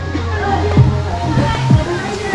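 Clear running water in a cave stream rushes and sloshes steadily nearby, a continuous flowing wash with a voice speaking over it.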